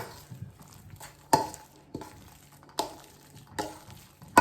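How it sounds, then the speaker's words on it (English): Metal spoon scraping and stirring ground turkey and Italian sausage meat around the edges of a pan for lasagna, a series of soft rasping strokes punctuated by several sharp scrapes and clinks, close and moderately loud with no talking. "Get a spoon here and get these edges off."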